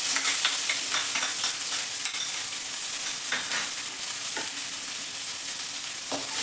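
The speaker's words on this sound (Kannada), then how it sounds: "ಆನಿಯನ್ನು ಫ್ರೈ ಮಾಡ್ಕೋಬೇಕಾಗತ್ತೆ" Onions frying in a pan with cumin seeds for a bindy fry, a steady bright sizzle throughout with occasional stirring scrapes, close and continuous with no talk.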